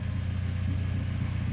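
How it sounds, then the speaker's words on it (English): An Acura TSX engine idles with a steady, low, even throb, close and continuous with no voices. "She loves the car noises."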